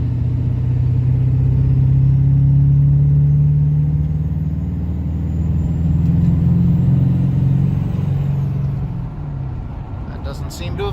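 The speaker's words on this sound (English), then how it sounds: "Let the truck warm up a little bit." An OBS Ford 7.3 Powerstroke diesel truck engine idles while warming up, a loud steady low rumble that eases slightly near the end, with faint talk nearby.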